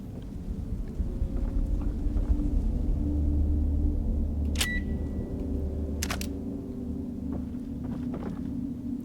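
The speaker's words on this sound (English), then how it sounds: "I don't like the way you disarm those bombs." Electronic beeps from a bomb being disarmed in the horror video game The Evil Within, two short high bursts standing out over a low, steady rumbling game ambience with no talking.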